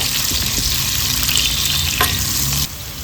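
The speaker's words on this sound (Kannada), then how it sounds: "ಈರುಳ್ಳಿ ಚೆಂದ ಫ್ರೈ ಆಗಬೇಕು." Chopped onion with cumin seeds frying in hot oil for a spiny gourd gravy, giving a steady, close sizzle with occasional stirring scrapes, then the sizzle drops slightly quieter near the end.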